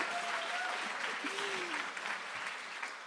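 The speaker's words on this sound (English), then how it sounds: "One more round of applause for Travis." An art contest celebration audience gives a steady, soft round of applause for a finalist, a faint, even wash of clapping that lasts throughout.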